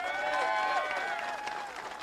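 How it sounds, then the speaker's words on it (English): Audience applause and cheering for Secretary of Labor Marty Walsh at a United Steelworkers infrastructure bus tour event in Chesterton, Indiana; a dense, steady wash of clapping with some voices mixed in, lasting about two seconds. "Give him a round of applause."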